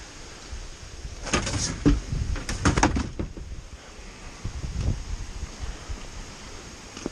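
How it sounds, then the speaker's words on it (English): Wind gusts buffet the microphone outdoors on a cold day while kayak fishing, with rumbling, rising and falling in bursts over a steady airy background. "It's really cold out. It's super windy."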